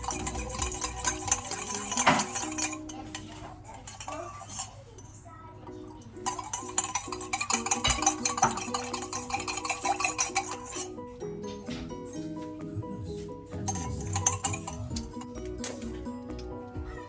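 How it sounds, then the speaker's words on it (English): A father stirs a mixture in a bowl while a five-year-old helps make cinnamon swirls with Jus-Rol dough, giving repeated clinks and scrapes of a utensil against the bowl over steady background music, with someone talking at times. "My dad's mixing it."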